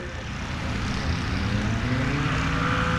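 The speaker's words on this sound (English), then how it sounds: "This one's got the Lycoming 180 horse engine conversion." Cessna 170B airplane fitted with a 180 hp Lycoming engine conversion, flying at a STOL competition at Oshkosh; a steady, loud propeller drone persists throughout with a slowly rising engine tone.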